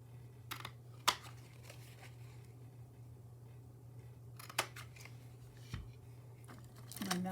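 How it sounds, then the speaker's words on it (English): A corner rounder punching the corners of a card, several sharp crisp clicks spaced apart over a low steady hum, quiet and close. "you can use these rounded corners to round off the corners of your card"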